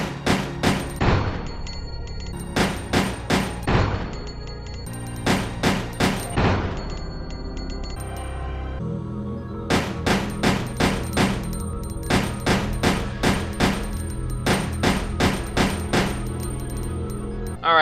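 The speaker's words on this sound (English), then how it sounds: "So let's go ahead and test the M100P out" An M100P handgun fires in Resident Evil Code: Veronica X: loud, evenly spaced single shots in quick volleys, several groups separated by short pauses, with no talk.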